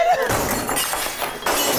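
Tempered glass tabletop shattering into pieces, a loud burst of crumbling, tinkling fragments that keeps crackling for nearly two seconds, with a voice briefly heard amid the breakage.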